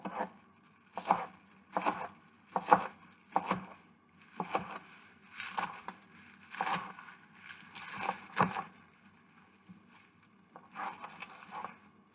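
Knife slicing through peaches on a cutting board, roughly a dozen crisp chops in irregular clusters with pauses between, close and fairly quiet with no talking.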